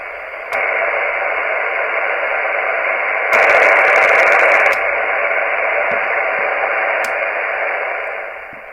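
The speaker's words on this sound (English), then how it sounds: "we turn the dial until we hear the most noise from the radio from that band" Steady radio static from a Wonderwand Widebander MKII antenna hisses for several seconds while tuning for peak band noise, swelling louder briefly in the middle before settling back, with faint clicks scattered through it.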